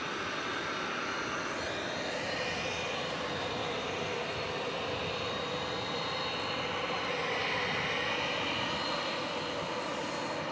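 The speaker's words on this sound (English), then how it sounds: "We're about to see the arrival of Spirit Flight 3722 coming in from Milwaukee. An Airbus A321." Airbus A321 jet engines roaring steadily as the aircraft arrives at DFW Airport at night, a broad continuous rumble that swells slightly toward the end, heard at a distance with no speech.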